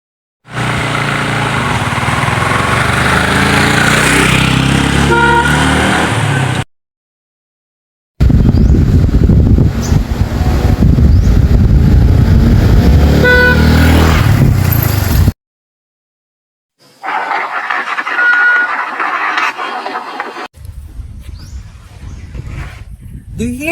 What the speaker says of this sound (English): As the moving vehicle sounds its horns, the resulting sounds were recorded for each point.